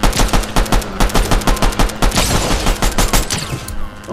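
Rapid pistol gunfire from a Fortnite match rattles off in loud, closely spaced bursts of sharp shots, with a brief pause before the firing resumes.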